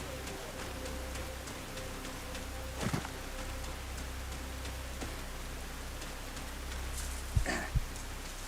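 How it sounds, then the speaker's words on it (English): Steady rain falls through the night as a soft, even hiss that fills the background throughout, with a couple of brief louder knocks near the end. "It's nighttime and it's fucking raining."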